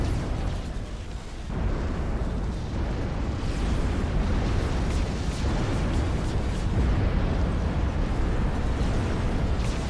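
Artillery explodes during a battle in the strategy game Ashes of the Singularity, as frigates are torn apart by Zeus units. A dense, continuous rumble of blasts runs throughout with no pauses and no talking.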